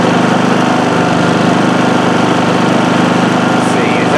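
A Westinghouse iGen4500 inverter generator runs steadily with no load. Its engine gives a loud, close, even drone with a constant buzzing hum.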